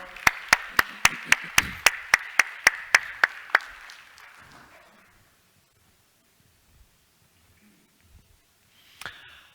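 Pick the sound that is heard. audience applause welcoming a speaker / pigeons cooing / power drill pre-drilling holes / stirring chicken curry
audience applause welcoming a speaker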